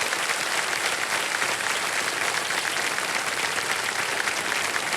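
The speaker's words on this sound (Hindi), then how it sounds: "जोरदार तालियां बज जाए इनके लिए" Studio audience on a TV quiz show claps loudly and steadily, a dense sustained wash of applause with no voices over it.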